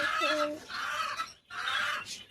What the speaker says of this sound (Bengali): আর মুরগিগুলো ভিজে কি হয়েছে